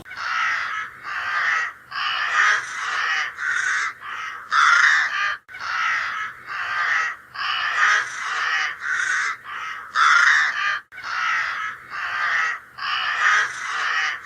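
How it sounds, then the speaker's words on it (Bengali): A crow caws beside a chili plant in a home garden, with loud, close calls in rhythmic bursts that repeat again and again with brief pauses between them. "বৌদির লঙ্কা গাছে কাক ডাকছে।"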